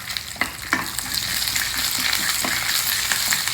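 Green chili and curry leaves sizzle in hot tempering oil, a loud continuous crackling fry with a few sharper pops, close and alone without talk.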